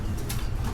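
White-faced fancy pigeons in a cage at a pigeon farm give a low, continuous cooing murmur close by, with a soft rustle on top and no talking.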